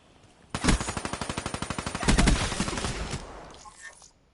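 Automatic weapon fired from the hip in a Call of Duty game, a rapid burst of about two dozen loud close shots in steady rhythm, a heavier blast partway through, then a ringing tail.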